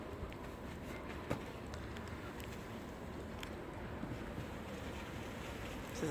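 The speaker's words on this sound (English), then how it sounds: "It's really windy too." Steady broadband roar of wind buffeting outdoors in a snow blizzard, constant and fairly loud, with a few faint knocks and no voices.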